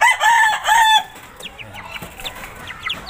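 A Texas gamefowl rooster clucks in its cage, two loud close bursts of clucking in the first second, then fainter scattered clucks and chirps of other birds around it.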